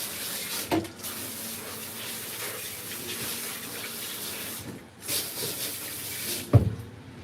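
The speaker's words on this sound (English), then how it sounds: "Get this water nice and warm." Warm tap water runs steadily into a sink or tub for a long-haired cat's bath, a continuous close gushing splash with a few brief bumps and splashes.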